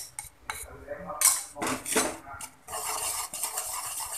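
A spoon stirs date cookie dough with beaten egg in a bowl, giving close, uneven scraping and clinking strokes in short bursts with brief pauses between them and no talking.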